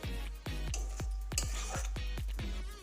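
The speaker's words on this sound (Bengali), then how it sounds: "দেখুন মশলাটা কষানো হচ্ছে।" Village-style desi chicken masala being stirred and fried in a pan on a gas stove: a quick, regular series of about ten metallic clinks from a utensil scraping the pan, close and clear over a faint sizzle.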